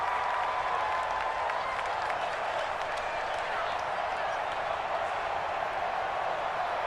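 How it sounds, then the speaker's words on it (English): A home stadium crowd roars in an American football video game, a loud, steady wash of cheering and noise that never lets up, with speech mixed in. "The crowd's not doing that O-line any favors."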